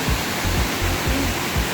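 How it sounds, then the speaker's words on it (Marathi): Small waterfalls rushing in the dark along the Ganesh Ghat monsoon trek to Bhimashankar, a steady broadband roar of falling water with low rumbling surges, close and continuous with no voices. "गणेश घाट मार्गाने चालत असताना अनेक छोटे मोठे धबधबे तुम्हाला पाहायला मिळतात"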